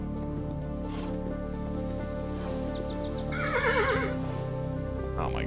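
A horse whinnies in a Norse-themed video game, a single shrill neigh rising over a steady bed of rain and game ambience, with clip-clop hooves faintly underneath.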